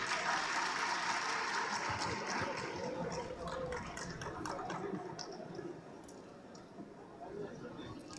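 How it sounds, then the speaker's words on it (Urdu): Audience applause at the Pakistan Literature Festival 2023, a steady wash of clapping from a seated crowd that slowly fades over several seconds, with a voice speaking over it. "بہت ساری تالیاں ان لوگوں کے لیے بھی."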